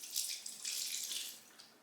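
Brine from a sauerkraut batch pours into a jug, a soft splashing trickle of liquid lasting under two seconds, faint and close.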